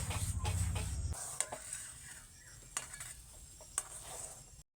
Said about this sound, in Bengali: তো ভালো করে মিক্স করে নিচ্ছি